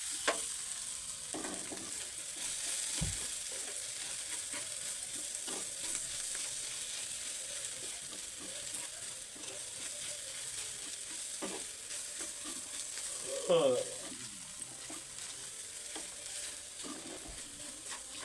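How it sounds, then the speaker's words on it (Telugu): A matar and potato kachori filling is stirred in a pan over a soft, steady sizzle, with occasional scrapes and light clinks of the spoon close by, and no one speaking. "మన మటరు ఇంకా పొటాటో మిశ్రమాన్ని మొత్తం కలిసేటట్టు కలుపుకొని"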